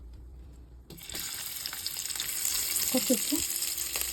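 Sliced onions hit hot oil in a pan for chicken dum biryani, bursting into a loud, continuous sizzle that builds and holds steady after a quiet start, with a few brief spoken words mixed in.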